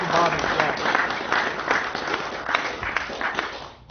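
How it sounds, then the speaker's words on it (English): An audience at a libertarian party convention applauds an award recipient with sustained, fairly loud clapping that fades out toward the end. "round of applause for Bob"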